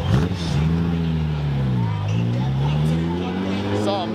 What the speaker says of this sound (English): Ferrari Daytona.